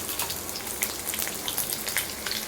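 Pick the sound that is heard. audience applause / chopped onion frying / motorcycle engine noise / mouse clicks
chopped onion frying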